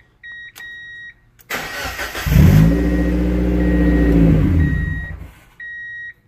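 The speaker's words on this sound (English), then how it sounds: "So the next thing you want to do is start the engine." A Mazda Miata NB engine with its fuel pump relay disconnected cranks, catches and runs briefly with a loud, steady idle for about three seconds, then dies out. Short electronic chimes sound before and after.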